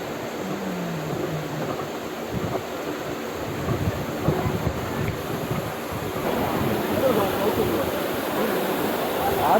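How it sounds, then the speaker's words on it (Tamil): Kumbakkarai waterfall near Kodaikanal roars as a steady, broadband rush of falling water, loud and continuous throughout with faint voices blended into the spray. "அருவியை ஒரு வழியாக ரீச் பண்ணிட்டோங்க."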